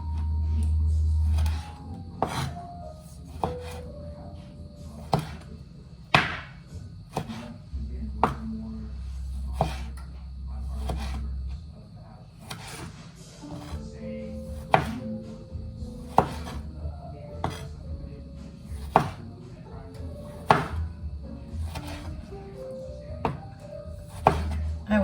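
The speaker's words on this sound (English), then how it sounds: "Cut up the tomatoes." Tomatoes being cut up with a knife on a cutting board: a long run of sharp, irregular chops, some quick and some spaced out, close by in a quiet kitchen with a faint low hum.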